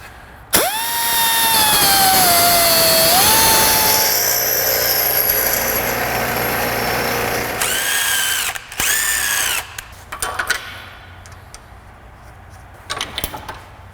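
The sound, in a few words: wire wheel grinding a shortened Fox Body fuel tank part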